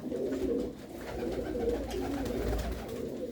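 Pigeons coo steadily in low, throaty rolling calls, close by and continuous, with no talking.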